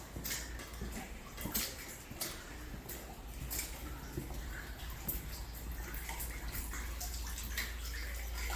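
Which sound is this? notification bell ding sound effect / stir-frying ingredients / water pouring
water pouring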